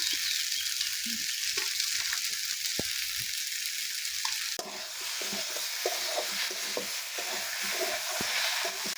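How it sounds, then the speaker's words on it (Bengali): Steady crackling sizzle of potato, raw plantain and pumpkin frying in a pan, with occasional scraping stirs and clicks; no talking, continuous throughout. "আমার আলু, কাঁচা কলা, কুমড়ো ভাজা হয়ে গেছে"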